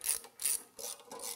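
A hand ratchet removes bolts from the underneath cover of an LT40 or LT50 portable sawmill with AutoClutch, making close, crisp clicking strokes in four quick bursts without speech.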